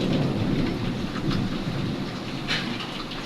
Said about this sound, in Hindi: बादल किस कदर गरज रहे हैं, बादलों की आवाज़ किस कदर आ रही है।